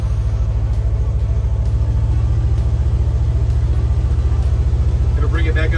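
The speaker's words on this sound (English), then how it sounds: "Yeah, there goes the pump." On a 1974 fire truck, the pump runs with a steady, loud, deep rumbling throb from the engine under a constant pulsing beat.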